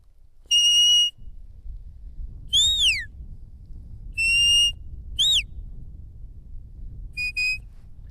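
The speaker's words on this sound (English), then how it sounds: "the handler doesn't give too many whistles" Five short, sharp herding whistle blasts from a handler to a sheepdog at intervals, some steady and some sliding down in pitch, heard over faint outdoor wind noise.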